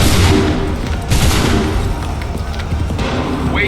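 Musket volley fire in the Assassin's Creed III video game: dense, loud overlapping booming shots with a fresh burst near the start and another around a second in, rolling together under battle noise.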